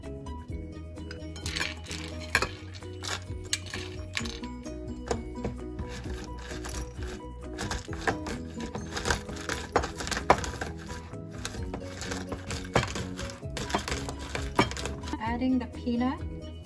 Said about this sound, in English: I am going to make this peanuts. So I'm gonna grind this.